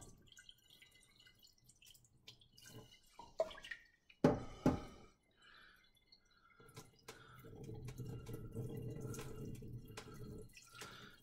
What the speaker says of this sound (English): So we're just going to pour those right down the drain.